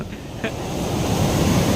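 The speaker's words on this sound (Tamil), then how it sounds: "கடல் வந்து எல்லாத்தையும் எடுத்துகிட்டு போகுது" Sea waves washing onto a beach where baby turtles are being released, heard as a steady, rising broadband rush of surf with wind noise on the microphone throughout.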